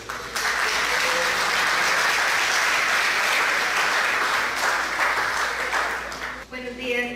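A full audience applauds at a conference session on information technology accessibility. The dense clapping holds steady, then thins out and stops near the end, where a voice begins.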